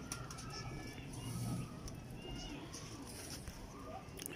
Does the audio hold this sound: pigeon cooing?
yes